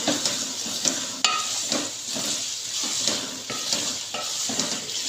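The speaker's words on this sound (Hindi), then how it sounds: "तो ऐसे 3 से 4 मिनट से हम भुनाई करेंगे।" Minced meat keema with green chillies frying and being stirred in a pan, with steady close sizzling and repeated scraping strokes of a spoon against the metal, no talking.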